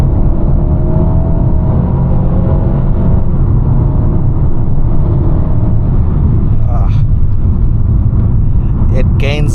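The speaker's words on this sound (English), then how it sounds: "Let's do an acceleration in second gear." A 2021 Mercedes-Benz A250 with 226 hp and a seven-speed AMG Speed Shift gearbox accelerates in second gear, heard from inside the cabin as a loud, continuous engine drone and road roar.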